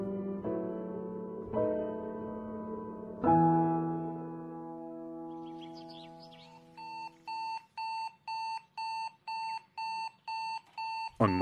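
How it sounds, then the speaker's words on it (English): An alarm clock set for an early morning start rings. A few soft chimes come first, then a loud, steady run of evenly spaced electronic beeps, close and alone. "the couple went to bed as normal, with Robin's alarm clock ready for a 5 a.m. start."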